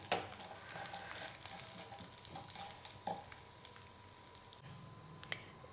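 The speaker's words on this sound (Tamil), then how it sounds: "கடுகையும் போட்டுடலாம். கடுகு அப்படியே நல்லா பொரியணும்." Mustard seeds and dried chillies frying in hot oil in a pan, a faint steady sizzle with scattered small pops and crackles, close by with no talk.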